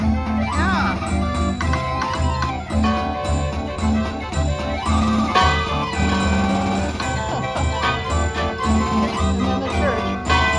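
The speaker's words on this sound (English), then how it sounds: "Oh, that's a calliope we hear." Calliope music from a tram at a historic village setting plays steadily with bright, sustained piped tones and a steady pulse of accompaniment, with people talking nearby.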